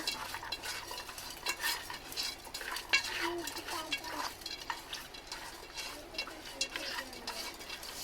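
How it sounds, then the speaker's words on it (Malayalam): A spoon scrapes and clatters steadily against a pot as food with turmeric powder is stirred and mixed, with soft sizzling underneath. "മഞ്ഞൾപ്പൊടി ഇട്ടുങ്ങാണ്ട് നമ്മള് ഇത് വേവിക്കുകയാണ് കേട്ടോ. നല്ലോണം ഒന്ന് കുഴച്ച് കൊടുക്കുക."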